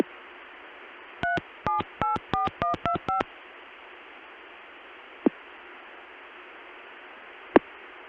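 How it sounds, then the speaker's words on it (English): A rapid burst of about ten DTMF tones keyed in quick succession into an oil company CCSA network through a Denver Centrex line, over steady hiss, followed by two isolated clicks. "I'll dial the rest of the number directly into the CCSA via the Denver Centrex"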